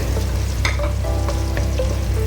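Garlic sautéing in a pan, sizzling steadily with a few scrapes and clinks of the utensil as it is stirred, close and fairly loud.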